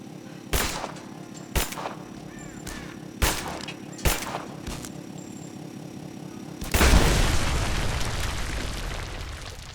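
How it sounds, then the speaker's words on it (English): In a video game, several sharp blasts ring out in turn before a big, loud explosion bursts and rumbles off, all over a looping musical background. "Damn, that's a big explosion."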